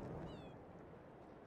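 A single short, faint meow from a cat in the farm game Farming Simulator 22, heard over a steady low background hum.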